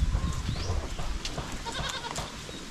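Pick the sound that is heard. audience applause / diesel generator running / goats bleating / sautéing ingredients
goats bleating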